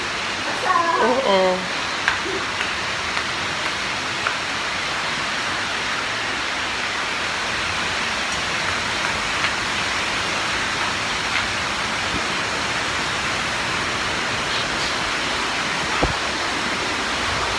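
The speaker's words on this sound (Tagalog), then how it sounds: "Ay, ang ganda ng ulan!" Heavy rain pours in a steady, broadband hiss that fills the whole stretch, with a brief burst of voices near the start and a few faint knocks scattered through.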